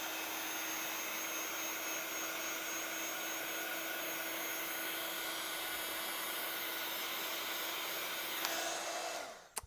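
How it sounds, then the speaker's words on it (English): A crafting heat tool blasts air to dry ink on a stamped card, making a loud, steady whirring blow with a high whine that runs unbroken before switching off abruptly at the end. "I'm going to just give that a little blast with my heat tool just to dry it off"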